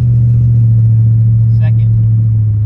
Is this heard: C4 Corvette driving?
yes